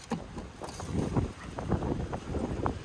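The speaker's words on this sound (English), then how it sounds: "the wind" Wind buffeting outdoors beside a van under repair, a broad gusty rush with irregular low thumps and rumbles, steady throughout with no clear voices.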